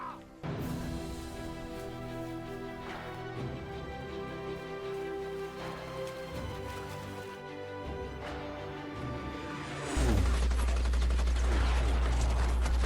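Aircraft machine-gun strafing in a war film battle scene, rapid bursts of gunfire layered with a dense orchestral score, building to a heavy rumbling barrage near the end.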